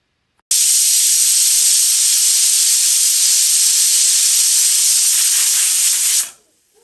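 A loud, steady high-pitched steam hiss from a pressure cooker whistle while cooking snake gourd kootu bursts on abruptly, holds continuously for about six seconds, then cuts off.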